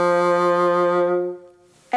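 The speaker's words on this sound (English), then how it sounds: "If I uncover everything, the bassoon sounds like this." A single bassoon note played with all finger holes uncovered, a steady, buzzy low-mid tone held close and clear for over a second before fading into quiet, followed by a brief breath of speech at the end.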